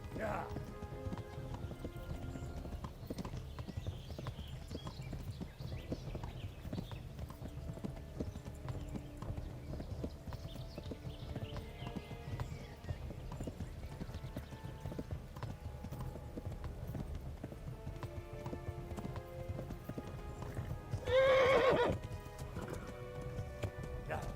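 Horse hooves clip-clop in a steady walking rhythm throughout in the video game Kingdom Come: Deliverance, with a brief louder neigh near the end over soft background music and occasional talk.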